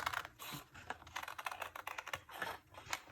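Scissors snip through stamped paper for a scrapbook page, a close run of quick crisp cuts and paper rustles with short pauses, no talking.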